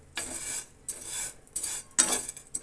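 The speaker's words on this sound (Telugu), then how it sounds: "ఒక బౌల్ పెట్టి బౌల్ హీట్ అయిన తర్వాత సేమియా వేసుకున్నాను ఫ్రెండ్స్." Semiya vermicelli roasting in a heated bowl, with repeated scraping and clinking bursts of a utensil stirring against the bowl, about four short strokes separated by brief pauses.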